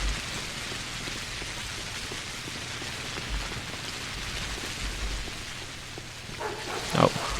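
Continuous night rainfall in the video game Pathologic, a steady even hiss across the whole stretch, with a faint low thump and a short sharp sound near the end.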